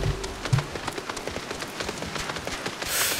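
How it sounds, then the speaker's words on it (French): Steady rain pours in the game Final Fantasy XIV, a continuous hissing wash with soft patter and faint rhythmic footfalls beneath, rising slightly at the end. "le temps s'est gâté d'un seul coup. On voit rien, il pleut."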